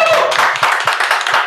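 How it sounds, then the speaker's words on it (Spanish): Applause for a pastor at a church-style gathering: a loud, close burst of hand clapping with sharp individual claps repeating in an uneven rhythm, no voices. "Hoy fue el aplauso para el pastor Rojo."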